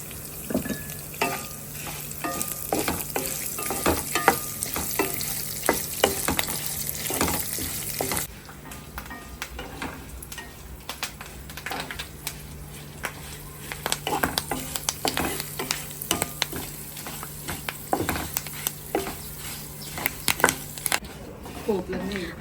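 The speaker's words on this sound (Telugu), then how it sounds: "మొత్తం పోపులన్నీ అయితే వేగిపోయినాయి చక్కగా" Spices and curry leaves tempering in hot oil in a pan for a Telugu drumstick-leaf fry, giving a steady close sizzle and crackle with occasional stirring scrapes, quieter in the second half, and a voice talking over it.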